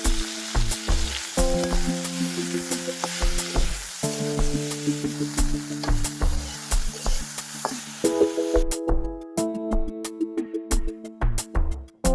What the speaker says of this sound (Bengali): একইভাবে আলু এবং ভেন্ডিও তেলের ভেতর ভেজে নেব